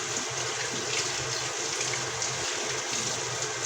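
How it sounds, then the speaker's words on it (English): Water from a kitchen tap runs steadily over hands being rinsed while Thanksgiving dinner of Cornish hens is prepared, a continuous close splashing rush with no voices. "I'm rinsing my hand again."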